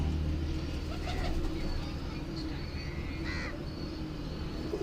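Teddy pigeons coo and call faintly against a constant rumble of background noise, with a few brief bird sounds scattered through.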